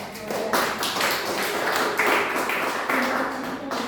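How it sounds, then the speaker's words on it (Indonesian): A church young adults worship congregation applauds the worship team, a close, steady patter of hand claps sustained for several seconds with some voices mixed in. "Yuk kita kasih tepuk tangan yuk buat tim worship."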